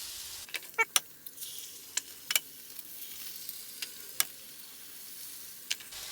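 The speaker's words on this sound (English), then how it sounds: "I'm gonna throw my eggs in here." Eggs frying in a regular non-stick skillet make a faint, steady sizzle, with scattered sharp pops and ticks breaking through now and then.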